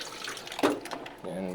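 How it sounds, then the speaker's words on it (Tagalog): Tap water runs over fresh mussels being washed in a kitchen sink, a steady splashing stream with a sharper gush midway, while someone talks over it. "Hugasan natin ng mabuti."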